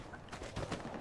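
Gunfire bursts in the World War II shooter Hell Let Loose on console, several muffled distant shots cracking in quick succession over a low battlefield rumble.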